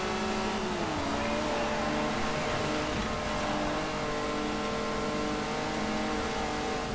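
A car engine, the same unit used in the Ferrari Dino 246 GT, runs steadily and loudly throughout with a dense, continuous drone and shifting tones as the revs change.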